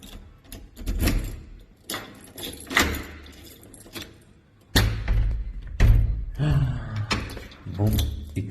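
Keys jangle and clink near the mic, followed by a thud and metallic clicks of a lock turning, with some low talking around it.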